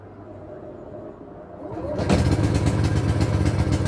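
A BE 3600W inverter generator, fuelled with about five liters, cranks over and catches after a quiet moment, then settles into a steady, close, loud engine drone.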